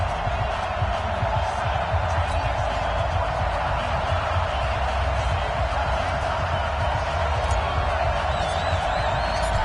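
Stadium crowd noise from an EA Sports NFL video game at a New York Jets versus Miami Dolphins matchup forms a dense, steady roar of the crowd that stays loud and even throughout.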